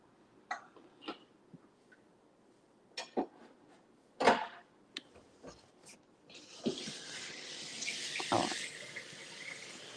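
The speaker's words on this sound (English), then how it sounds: "So I'm gonna put myself on mute so you won't hear this water." Water from a tap begins running as a steady hiss partway through, after a few scattered knocks and clicks in an otherwise quiet room.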